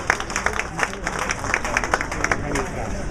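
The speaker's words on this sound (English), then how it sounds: "And a big round of applause for her one more time." Applause from an audience at a Santa Monica mixer with a German foreign policy delegation, a steady round of clapping held at moderate loudness through the whole stretch, with a crowd murmuring faintly underneath.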